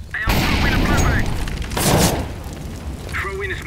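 A flashbang grenade detonates in Counter-Strike with a loud booming burst and a second blast a moment later, as voice chat talks over the game sounds.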